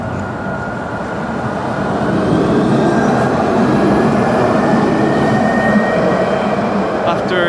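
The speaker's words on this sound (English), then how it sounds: "There's a tram." A tram rumbles past on its rails along Calle Gran Colombia in Cuenca, a loud, steady roar that swells and holds, with faint squeals near the end.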